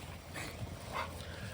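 An American bully and a pit bull whimper and whine softly indoors in the morning, a few faint high cries rising over low room noise.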